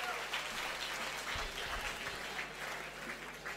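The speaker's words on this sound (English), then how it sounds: "Everybody should clap for her." Audience clapping at a college launch event, an even, continuous round of applause heard a little distantly and fairly quiet.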